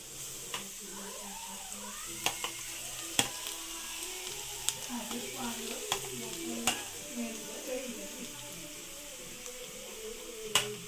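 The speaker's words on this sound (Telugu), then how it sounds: "అదే ప్యాన్లో బొప్పాయి తురిమిన తున్ని వేయించాలి" Grated raw papaya frying in a pan, for halwa, giving a steady close sizzle with repeated sharp scraping stir clicks throughout, with no talking.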